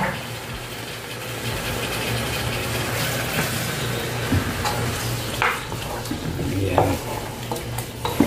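Fresh chicken being stirred in a hot pan of leftover spaghetti with bitter gourd, a steady sizzle with scraping utensil strokes and occasional clinks, close and continuous.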